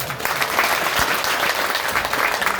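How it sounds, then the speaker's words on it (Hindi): An audience claps loudly and evenly in a sustained burst of applause, with no pause or change in strength over its short length. "एक बार इनके लिए जोरदार तालियां बजाएं।"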